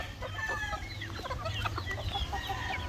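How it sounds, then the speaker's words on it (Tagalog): Asil roosters and chickens cluck on a farm, giving a steady stream of overlapping clucks and short calls at moderate distance, with a low background rumble. "yan yung asil natin na rooster"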